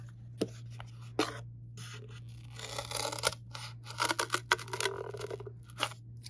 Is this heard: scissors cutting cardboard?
yes